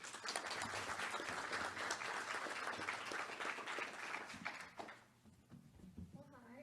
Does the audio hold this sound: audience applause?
yes